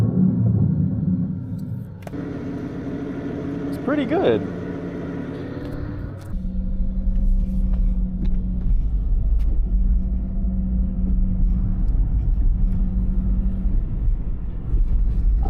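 A fake exhaust device on a Tesla plays simulated engine and exhaust sounds through a speaker: a low rumble, a rising rev-like tone, then a steady droning note. A voice speaks briefly over it.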